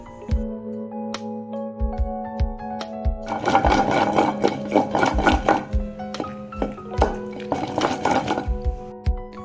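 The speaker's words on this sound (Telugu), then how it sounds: "ఇంకా తర్వాత మనం కట్ చేసి పెట్టుకున్న టమోటా ముక్కల్ని కూడా వేసుకొని అది కూడా బాగా కలిసే విధంగా మెత్తగా దంచుకోవాలి" Tomato pieces pounded with tamarind for a fish curry, heard as rhythmic thuds in quick bursts that start after a few sparse knocks, all over a steady humming tone in the background.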